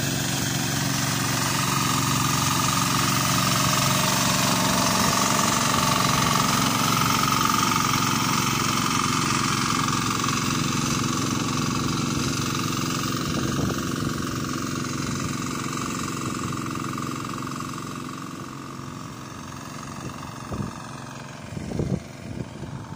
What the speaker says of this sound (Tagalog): diesel engine yan guys